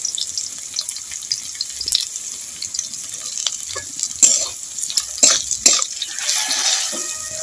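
Fried onions sizzle in a pan as turmeric powder is added, with a spoon stirring and scraping in irregular bursts, close and moderately loud, while green tomatoes cook for a traditional Bengali recipe.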